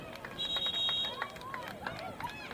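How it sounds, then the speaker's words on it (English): A high electronic end-of-game buzzer sounds once for under a second at a boys high school soccer match, Fremont at Farmington, ringing over steady crowd noise with shouts and whistle-like calls continuing after it. "we have a buzzer"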